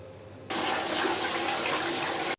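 A toilet flushes abruptly after a quiet moment, a loud, close rush of water that holds steady for about two seconds and then cuts off.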